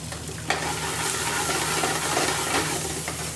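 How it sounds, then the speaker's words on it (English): Onions frying and being stirred in a pan for an Indian restaurant-style chicken tikka balti, a loud, continuous close sizzle with a sharp scrape of the spoon early on. "the onions are caramelizing"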